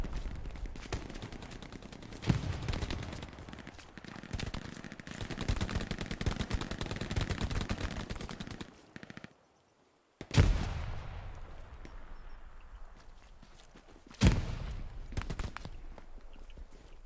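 Thompson submachine gun fire in a video game, with long loud bursts of rapid automatic shots, a brief pause, then more sharp bursts. No one speaks.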